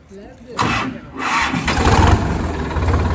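A tractor engine cranks and catches after a flat battery, a rough low mechanical rumble rising and settling into a steady idle close by, with people talking over it.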